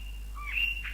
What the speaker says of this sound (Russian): Это пение птичек.